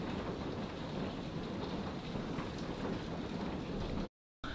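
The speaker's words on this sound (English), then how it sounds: "I really thought that this thunderstorm was going to pass us by, but I guess not." A severe thunderstorm with heavy, steady rain pouring down and a low rumble of thunder beneath it, loud and continuous throughout before cutting to a brief silence at the end.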